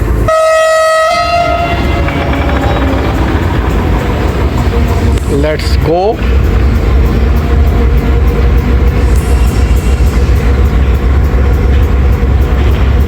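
The Karachi Express diesel train leaves Port Qasim-area station with a loud horn blast, followed by a continuous heavy rumble of wagons rolling close by, while someone speaks briefly.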